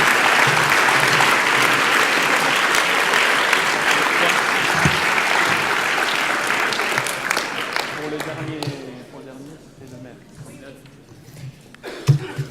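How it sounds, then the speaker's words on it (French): Loud sustained applause at a trophy presentation ceremony, thick clapping that fades after about eight seconds, leaving scattered claps and a few voices. "Un tonnerre d'applaudissements pour Alain et pour Christian."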